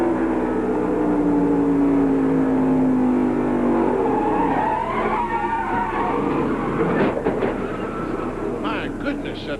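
In-car sound from a NASCAR stock car at the 1996 Jiffy Lube 300 at New Hampshire International Speedway: a loud engine drone falls in pitch, then a harsh, noisy crash and scraping burst as the car hits the wall.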